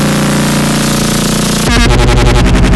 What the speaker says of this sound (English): the 808 is pretty loud and has kind of like a kick thing to itself